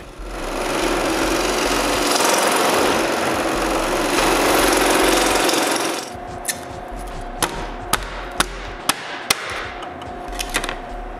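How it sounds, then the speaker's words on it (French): A scroll saw cuts a 6-inch hole in plywood with a dense, loud, steady buzz for several seconds, then stops, followed by a series of sharp, evenly spaced knocks or clicks. "Le trou de 6 pouces, lui, il est coupé avec la scie à chantourner."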